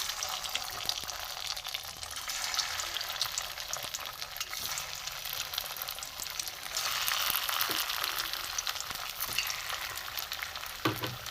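Chira (flattened rice) chops sizzle steadily in hot oil in a pan, a close, constant crackling hiss with small pops and occasional soft clinks, no talking.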